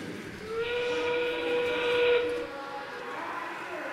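A single sustained whistle-like end game signal sounds for about two seconds over crowd noise at a FIRST robotics competition match, then stops.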